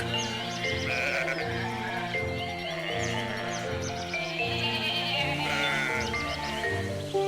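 A flock of sheep bleating in a pastoral setting, many overlapping wavering bleats rising and falling continuously, close and fairly loud, with no talk.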